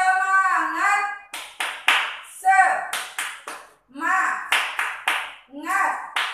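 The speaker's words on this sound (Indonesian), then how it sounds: "kita tepuk semangat dulu ya" Children and a kindergarten teacher chant a rhythmic clapping cheer during a lesson, with sharp hand claps punctuating their voices in a steady, lively pattern close by.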